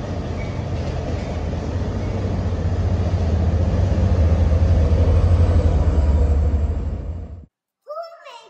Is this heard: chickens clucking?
no